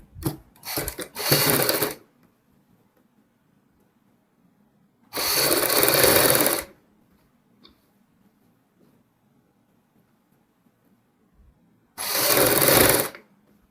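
A sewing machine stitches a kurti neckline: three separate loud bursts of rapid mechanical whirring, each lasting one to two seconds, with quiet pauses between them.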